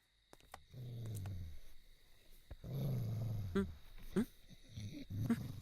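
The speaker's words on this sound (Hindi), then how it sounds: "इधर तो इंसान से ज्यादा कुत्ते हैं।" Dogs whimper, growl and give short barks close by, a few low drawn-out whines followed by sharper yelps, fairly quiet overall.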